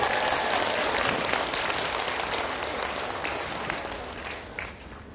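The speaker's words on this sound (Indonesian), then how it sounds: "Tepuk tangan dulu buat para pahlawan." Dense applause from an audience at a religious study gathering fills the room, loud at first and gradually fading over several seconds.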